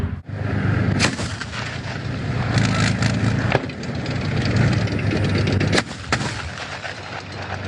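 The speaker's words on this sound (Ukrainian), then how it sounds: "Зараз БМП веде вогонь осколково-фугасними снарядами бачимо характерні розриви" Heavy cannon shots from an infantry fighting vehicle boom at intervals over continuous roaring noise, with sharp distant explosions of high-explosive fragmentation shells cracking between them, loud and harsh throughout, at a military training range.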